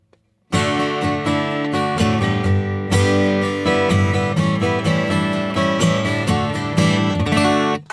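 Bright, cutting acoustic guitar heard through its unprocessed pickup, strummed steadily with crisp attacks and dense chords, played alone and close for several seconds.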